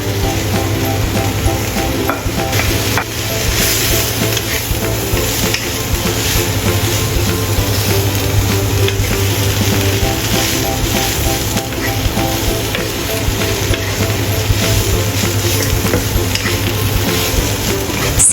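Oyster mushrooms stir-frying with dried shrimp in a hot pan, a loud, steady sizzle with constant stirring and scraping, close and with no talking.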